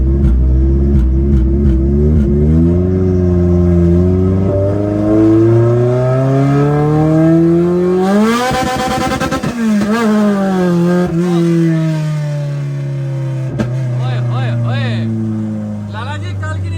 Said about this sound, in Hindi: अभी हम गाड़ी होली होली चला के इसको थोड़ा गर्म कर रहे हैं।